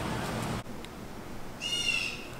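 A bird calling outdoors on a street of old houses in New Orleans, a bright, thin trilling whistle rising briefly above steady outdoor background noise, fairly distant.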